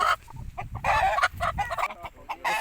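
An Aseel hen clucks in short, irregular bursts close by, with a few louder calls breaking in among the softer clucks.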